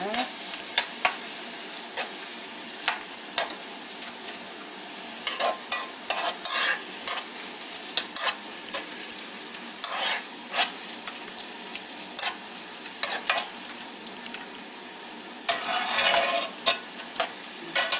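Minced garlic stir-fries in a pan for a home-style dish of stir-fried aged kimchi with somen. A steady sizzle runs under repeated scraping and clacking of a utensil against the pan.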